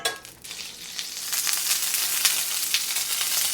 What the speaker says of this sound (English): now I'm gonna add a little bit of olive oil and about a tablespoon of butter